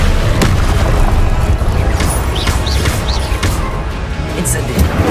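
Confringo blasting spells in the video game Hogwarts Legacy erupt as loud, heavy booms and crashing bursts, several hits in quick succession layered over a deep rumbling battle din.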